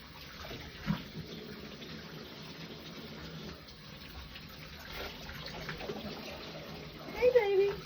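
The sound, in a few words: running water rinsing a German Shepherd in a bath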